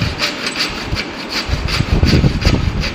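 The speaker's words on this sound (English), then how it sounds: "The cutting on marking lines with the aid of saw." A hand saw cuts a wooden workpiece along marked lines in a carpentry lab, giving steady rhythmic rasping strokes, close and fairly loud, with no talk.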